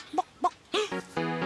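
A voice imitates a hen clucking: two short clucks, then a drawn-out warbling cackle, close and loud with no other sound.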